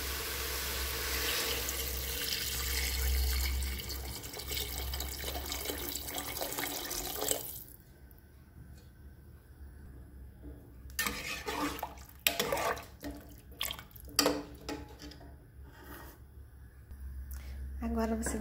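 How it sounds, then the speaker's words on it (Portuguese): Water pours from a tap into a pot for a simple three-ingredient soup, a loud continuous gush that stops midway, followed by clanks and handling sounds before the flow resumes briefly. "Agora você acrescenta um pouco de água."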